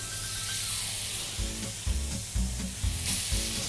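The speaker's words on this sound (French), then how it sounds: "Le beurre de noisette, le beurre doit chanter." Butter browning in a pan while turkey fillet cooks sizzles steadily and loudly, with a continuous crackling hiss and a few stirring scrapes and low bumps toward the end.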